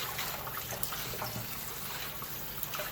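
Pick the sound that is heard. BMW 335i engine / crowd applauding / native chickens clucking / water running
water running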